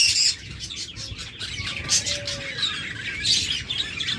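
A pair of rainbow budgerigars gives scattered short chirps and tweets at close range over a low background hum.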